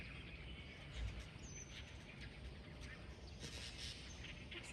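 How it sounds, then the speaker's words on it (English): Birds chirping and calling outdoors, small bird voices scattered over a steady background hiss, fairly faint and distant with no talking. "I just love birds."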